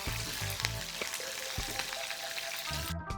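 Green chillies frying in a pan, a steady crackling sizzle with sharp popping spurts and light stirring knocks, close and moderately loud.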